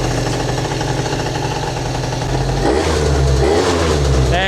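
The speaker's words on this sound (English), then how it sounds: "We'll just turn that idle down a little bit more." A scooter engine idles during tuning with the choke off, humming steadily and close by. Its note shifts and roughens about halfway through as the idle is turned down.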